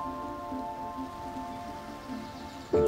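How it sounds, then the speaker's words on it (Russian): Steady, soft patter of rain falling through the crowns of forest trees, a faint continuous hiss with a sudden brief sound at the very end. "Шум ветра или дождя в кронах деревьев."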